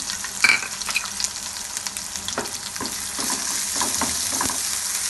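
Onions and cumin fry in a hot frying pan for a masala tinde dish, with a constant crackling sizzle and irregular clicks and scrapes as the mix is stirred, near and alone.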